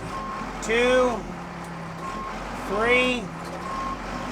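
Two loud repeating reversing beeps from a 2001 Case 580 Super L rubber-tire backhoe loader with Extenda Hoe, sounding near and clear over a running diesel engine while a man counts aloud.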